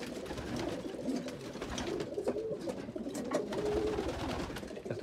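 Pigeons coo softly and repeatedly in a steady, crowded murmur, with several birds overlapping at close range and no voices.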